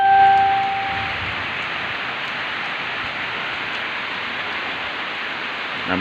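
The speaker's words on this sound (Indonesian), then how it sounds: "hujan masih tetap menetes dan sangat deras sekali" Heavy rain pours steadily in Kumpeh district, Muaro Jambi, a dense, even hiss of falling water that holds at a constant level throughout.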